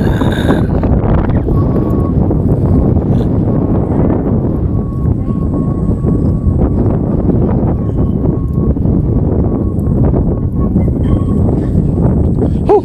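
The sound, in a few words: strong wind on the hills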